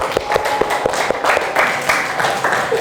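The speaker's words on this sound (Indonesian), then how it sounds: "tepuk tangan untuk kita semua" A classroom of students claps together in brief bursts, fairly close, with a few distinct taps standing out in the scattered applause.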